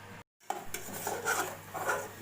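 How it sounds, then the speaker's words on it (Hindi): Semolina roasts in a pan while a spoon stirs it, a close, continuous dry scraping and rubbing with light metallic clinks, after a brief cut to silence at the start, with no talking. "यह भुनाई हो रही है इसकी सूजी की।"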